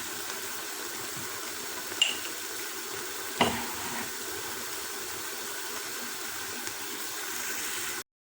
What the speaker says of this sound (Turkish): Ve suyunu ilave edeceğim.